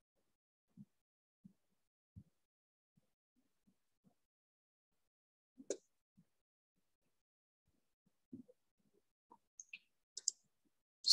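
Computer mouse clicks while working in accounting software, sparse soft single clicks spaced irregularly across a quiet background, a few in quick pairs toward the end.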